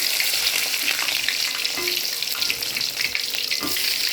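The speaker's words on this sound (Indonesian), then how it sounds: "Terus aku juga goreng nugget, guys." Chicken nuggets fry in oil in a pan at breakfast, a loud continuous sizzle and crackle heard close up with occasional stirring clinks and no talking.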